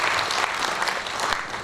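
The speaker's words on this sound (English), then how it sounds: "A round of applause." An audience applauding in a lecture hall after a speaker's introduction, a dense, steady burst of clapping from many hands.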